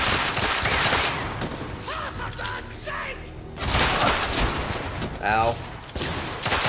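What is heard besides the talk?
machine gun fire in the video game The Order: 1886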